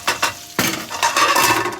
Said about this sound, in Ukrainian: Ми його тільки перемішаємо, щоб воно нам вкусилося ще краще